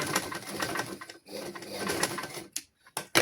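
A sewing machine stitching children's clothes runs in a rapid whirring burst, stops briefly, runs again, then cuts to short stop-start bursts with quiet gaps near the end, close by and moderately quiet.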